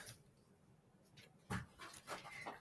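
A dog pants close by in a quiet room, giving a run of soft, rapid breaths with a few louder puffs and no talk.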